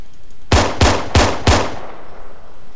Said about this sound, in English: So if we fire the weapon, the number of bullets on the counter will decrease.